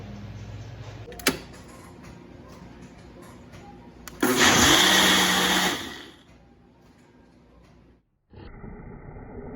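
A blender roars loudly for about two seconds in a burst, then winds down; quieter background noise before and a steady hum after.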